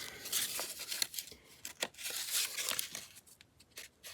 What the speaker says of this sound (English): And it's nice and crunchy from being glue pages.